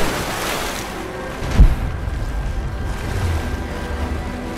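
Player character drops into water in the video game Rise of the Tomb Raider, a single low splash thump followed by a steady rushing, wave-like water wash with no voices.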